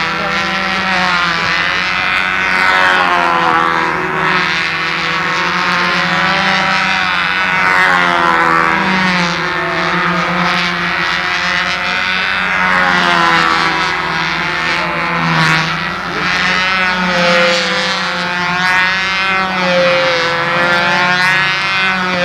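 Control-line model airplane with a small buzzing engine circling in windy conditions at a Brodak fly-in, its steady high-pitched drone rising and falling continuously throughout, with a voice speaking faintly underneath.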